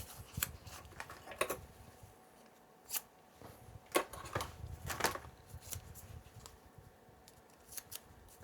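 Scissors snip through adhesive tape several times at irregular intervals, crisp and close, with quiet handling noise between cuts.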